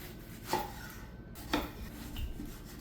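A knife slices peeled mango flesh around the pit, giving two soft, brief cutting strokes about a second apart against a quiet kitchen background.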